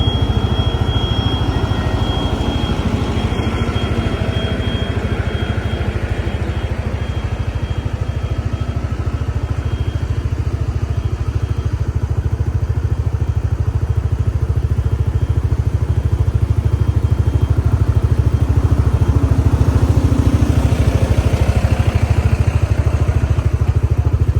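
A motorcycle engine runs steadily and loudly close by for the whole stretch, a constant throbbing drone with clattering texture, heard during a ride along an overgrown track.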